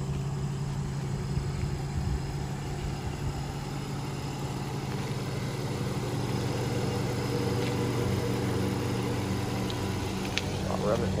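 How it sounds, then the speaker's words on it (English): A 2003 Infiniti G35 Coupe with 229,000 miles idles steadily with a low, even exhaust rumble that holds constant throughout, with no rev changes. "so you can hear the exhaust"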